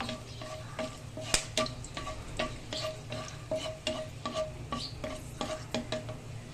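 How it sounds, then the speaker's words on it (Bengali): Cinnamon, cardamom, peppercorns, cloves and bay leaf fry in hot oil for egg korma, a steady close sizzle under repeated scraping stirs and light utensil taps, with no voices. "এখন দিয়ে দেবো কয়েকটা দারচিনি, এলাচ, গোলমরিচ, লবঙ্গ, তেজপাতা। এটা একটু তেলে ভালো করে ভেজে নিতে হবে একটু।"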